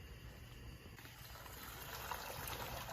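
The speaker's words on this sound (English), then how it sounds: "So now we're going to drain the tomatoes." Hot water from a pot of boiled tomatoes drains away as a faint, steady trickle and gurgle, with no speech.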